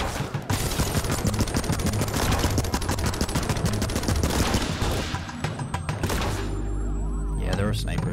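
Rapid, dense gunfire bursts from snipers in the video game Ape Out, loud and continuous with sharp cracks, easing briefly near the end before resuming, with someone talking over it.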